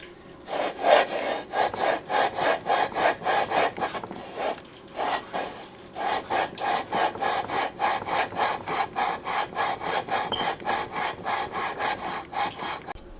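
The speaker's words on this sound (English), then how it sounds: "to lap the flywheel to the crank" A flywheel is lapped onto the crankshaft of a 212 Predator engine, twisted back and forth in a quick, regular rhythm of close, dry scraping strokes that pause briefly now and then.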